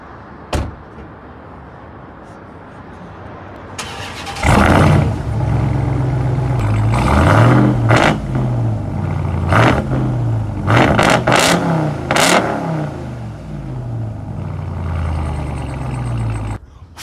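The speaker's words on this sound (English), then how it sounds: "let you guys hear the engine, because this is a Hellcat motor" A 2022 Ram 1500 TRX's supercharged Hellcat V8 idles, then revs hard several times in quick bursts, a deep throaty roar rising and falling before settling back.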